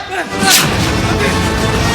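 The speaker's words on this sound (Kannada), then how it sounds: "Swati don't shoot drop the gun come on" A single gunshot cracks out loud and sharp during a live Tulu comedy stage play, amid voices and hall noise.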